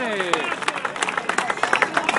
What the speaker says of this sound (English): Got a little cheering.